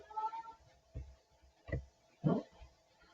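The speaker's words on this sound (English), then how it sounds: "my cat Maestro has decided to make an appearance in the video" A house cat meows a few times, short soft calls spaced out over a few seconds in a quiet indoor room, faint and close by.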